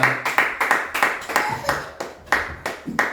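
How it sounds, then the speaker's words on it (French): A church congregation clapping in steady rhythmic bursts for Jesus Christ, close and lively, with sharp repeated hand claps filling the hall and no speech over them. "Est-ce qu'on peut acclamer pour le Seigneur Jésus-Christ?"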